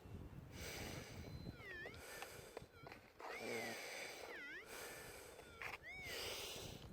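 Metal detector held over a gold target while prospecting in Western Australia, giving repeated warbling electronic tones that rise and fall in short sweeps over a low hiss of background noise, fairly faint.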